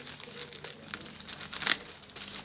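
Packaging for 12-volt lamps is cut open, giving soft crinkling and tearing with a few sharper snips. The sounds are close and fairly quiet, with no talk.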